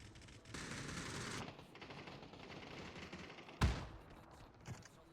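Rapid automatic gunfire from a shooter video game rattles in bursts, with a sharp louder shot near the end and a few softer pops, fairly faint overall.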